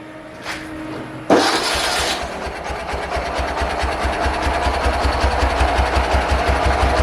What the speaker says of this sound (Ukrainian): Зараз ось підкачали і пробуємо заводити.